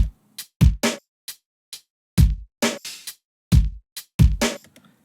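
A programmed drum beat from the EXS24 Platinum kit with punchy kicks, snappy snares and crisp hi-hats in a steady, sparse groove, played cleanly with no other instruments.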